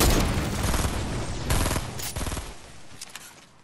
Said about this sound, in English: Thomas just started shooting.